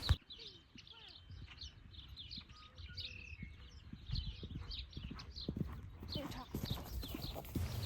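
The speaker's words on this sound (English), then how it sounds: "That was a really, really, really nice canter, and I'm so proud of that, but he did not stay in it, and he broke gait" A horse cantering under a rider outdoors, its hoofbeats a steady rhythmic clip-clop drumming throughout at moderate distance, with birds chirping in the background.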